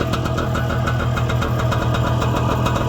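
A little Messerschmitt two-seat microcar with a two-stroke engine idles nearby with a fast, loud, even putter of rapid pulses, steady throughout with no voices.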